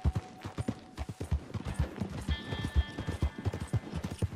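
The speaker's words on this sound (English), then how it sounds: "So right now we're gonna go take the Hamish horse here" Horse hooves clip-clop steadily in Red Dead Redemption 2, a close, rhythmic walking gait of distinct hoofbeats with a brief whinny-like tone partway through, no talking over it.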